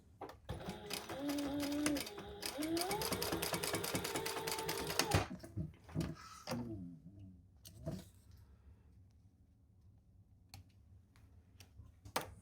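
A sewing machine top-stitches the lining of a crossbody bag in a fast, dense mechanical run for about five seconds, followed by scattered clicks and handling taps in a quiet room.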